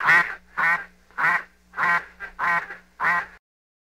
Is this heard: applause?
no